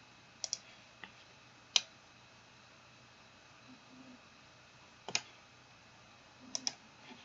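Sharp, close computer mouse clicks in quiet room tone, coming singly and in quick pairs at irregular intervals, with no voices.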